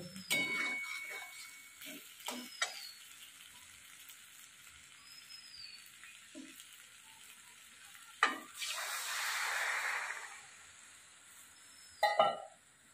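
Prawns hit a hot frying pan, setting off a loud, close burst of sizzling that lasts a couple of seconds before settling. Lighter clinks and stirring sounds come before and after, with faint chirps in the background.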